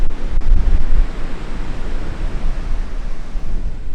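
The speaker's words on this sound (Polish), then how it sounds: "Piękna plaża, nie?" Ocean surf on a Galapagos beach, a steady broadband roar with a heavier wash near the start, mixed with wind buffeting the microphone; no voices.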